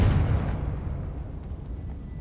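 A deep booming blast from the Confringo fire spell in Hogwarts Legacy on PS5, loud at the onset and rumbling away over about two seconds.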